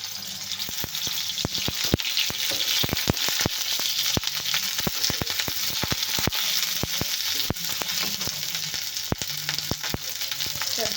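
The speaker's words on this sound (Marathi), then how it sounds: "कांदा पण आपल्याला छान भाजून घ्यायचा आहे" Onion sizzles and fries in hot oil in a pan, a dense continuous crackle broken by frequent sharp pops and occasional stirring scrapes, close and loud throughout.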